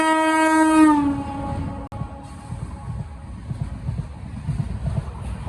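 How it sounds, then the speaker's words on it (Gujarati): A passenger train near the coast on the way to Dwarka begins to pull away slowly: a loud horn blast, then a low rolling rumble with soft, spaced wheel clatter. No one speaks. "હવે હાલતી થઈ ગઈ છે હળવે કરતી."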